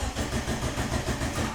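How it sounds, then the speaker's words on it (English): A car engine cranks over on a startup check with ignition, injectors and sensors being tested, giving a steady, rhythmic churning pulse throughout at moderate loudness with no voices. "I will just crank the engine over"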